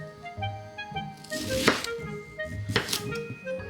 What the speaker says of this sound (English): Peel the daikon radish and cut it into quarter rounds.